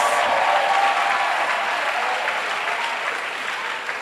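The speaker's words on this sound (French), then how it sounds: "Clap offerings to the Lord Jesus Christ." Church congregation at a Sunday worship service in Abidjan claps in praise, a dense, sustained wash of many hands that fades slightly toward the end.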